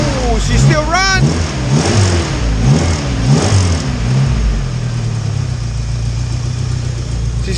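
A flipped Nissan S13 with its engine running, blipped up and down in a few rising and falling revs before settling to a steady idle, loud and close, with voices talking over it.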